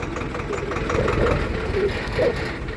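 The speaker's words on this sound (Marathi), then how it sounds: "बघा आता ट्रॅक्टर बंद करतो" A tractor engine idles nearby, a steady low rumble with a slight knocking pulse and no voices.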